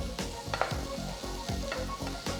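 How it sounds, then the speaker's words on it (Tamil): Sliced mushrooms stir-frying in butter in a pan, with a steady sizzle and repeated scraping strokes of a spatula at a regular rhythm, close and fairly quiet. "ஃபர்ஸ்ட் நம்ம 1 கப் மஷ்ரூமை ஸ்டர் ஃப்ரை பண்ணிக்கலாம்"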